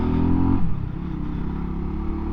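Mutt DRK 250 motorcycle with a CF Moto engine, its single-cylinder idle thrumming loudly before the revs drop and settle into a steady, slightly rough burble.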